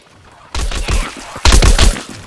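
A cactus plant in Plants vs Zombies Garden Warfare firing like a machine gun, two loud bursts of rapid, punchy shots, the second one heavier, close and up front with no talking.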